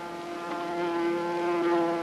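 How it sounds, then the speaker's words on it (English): Wild bees buzz around a tree in the countryside, a steady droning hum that holds level and grows slightly louder, with no other sounds. "A buzzing which gradually grew louder and nearer."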